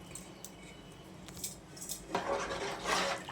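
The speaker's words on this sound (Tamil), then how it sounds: "அரிசி சேர்த்து நல்லா கலந்து விட்டுக்கோங்க" Soaked rice tipped into a cooking pot of biryani base and stirred with a utensil, starting as light scattered clinks and scrapes, then swelling into a dense, close rattling hiss of grains against metal for the last second, with no talking.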